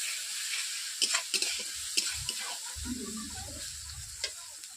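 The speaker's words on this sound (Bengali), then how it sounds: "পেঁয়াজ, আদা, রসুন, টমেটো ওগুলোকে ভালো করে আমি একসঙ্গে ভেজে নিচ্ছি।" Onion, ginger, garlic and tomato fry together in a pan with a steady sizzle, broken by several sharp scrapes and clinks of stirring.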